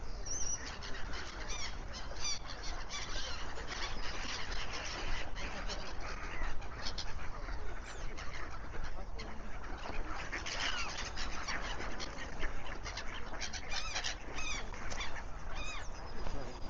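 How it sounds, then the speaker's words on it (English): Ducks being fed outdoors during a countryside hike in North West Leicestershire and Derbyshire, a dense, continuous chorus of calls and honks throughout, fairly loud over a steady outdoor background. "This guy's feeding the ducks."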